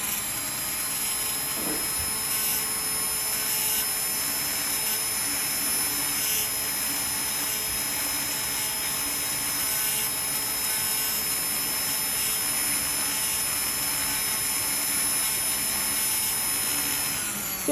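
A rotary tool with a polishing wheel smooths a silver ring, producing a continuous high whine and hiss, steady and loud throughout, with no voices.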